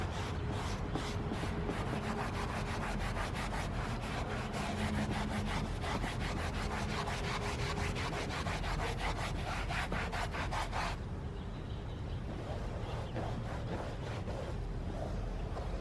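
A magic eraser and cleaner scrub across a plastic interior rubber mat in fast, steady back-and-forth strokes, a close continuous rasping that eases slightly near the end, with no talk.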